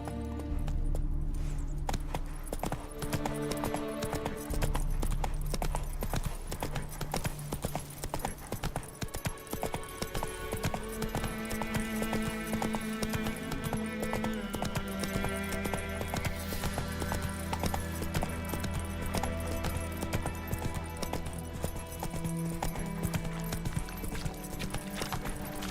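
A horse gallops in The Witcher video game, its rhythmic clip-clop hoofbeats continuous and fairly loud over a layered game soundtrack and ambience, with no talk during the run.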